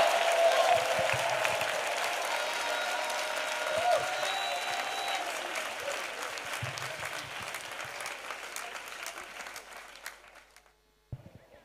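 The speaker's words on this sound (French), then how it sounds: "Let us clap for Jesus Christ." A church congregation claps together in sustained applause, a dense, loud wash of hands that holds steady for about ten seconds before tapering off, with a few voices mixed in.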